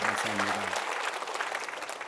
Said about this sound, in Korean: 호산나 대원들에게도 박수를 보내.